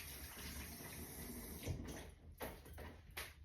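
Hands are rinsed under a running tap in a kitchen during burger bun baking, a steady close stream of water with a few splashy bursts toward the end, no voices.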